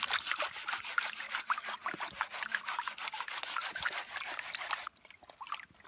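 Water trickles and sloshes as dirt dug from a small drop-off is panned for gold outdoors, a close, continuous splashing swirl that thins out and drops near the end.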